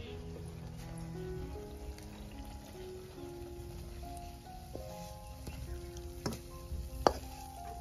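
Oil sizzling in a small tempering pan for a garlic fenugreek dish, a soft steady hiss under faint ringing tones, with a few light clinks near the end.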